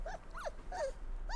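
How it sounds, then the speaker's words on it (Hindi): A female dog whimpers and growls in short rising-and-falling whines, about four close cries over a low hum, with no speech. "वो मेरी फीमेल डॉग है"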